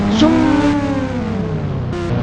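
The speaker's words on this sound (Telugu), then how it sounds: "ZX10 చాలా స్పీడ్ పోతుంది ఈ బైక్." Sports motorbike engine of a ZX10 revving at high speed in the mobile racing game Indian Bike Driving 3D, a loud continuous whine with shifting pitch throughout, close and steady.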